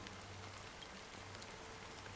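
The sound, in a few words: rain falling in the Penacony video game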